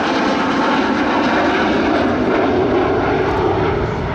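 An Avro Vulcan bomber roars overhead during its display at the Farnborough Airshow 2014, a loud, constant, thick jet engine rumble that stays steady throughout, with no voices.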